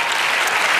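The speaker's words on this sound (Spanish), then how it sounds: "dale otro aplauso al Señor" Dense, loud applause from a church congregation fills the moment, a continuous even clatter of many hands with no voices over it.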